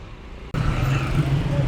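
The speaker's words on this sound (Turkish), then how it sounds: "burada da bir trafik kaosu var" City traffic in Tehran, a steady dense roar of cars and engines near a government building, broad and continuous after a brief cut, close and fairly loud.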